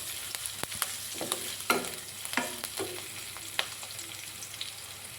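Sliced onions and lengthwise-cut green chillies frying in a pan give a soft, steady sizzle under repeated close spatula scrapes and taps.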